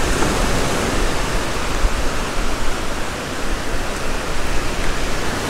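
Broadband surf wash of ocean waves breaking on a beach during surf fishing, a steady loud roar with small surges throughout and no voices.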